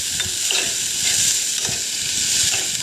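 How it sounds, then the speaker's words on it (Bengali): Onions are stirred and fried in a kadai for an oil-free chicken recipe: a dense, continuous sizzle up close, with regular scraping strokes of the spoon against the pan, and no voices. "পেঁয়াজটা ভাজা হওয়া পর্যন্ত কড়াইতে এইভাবে নাড়তে থাকতে হবে।"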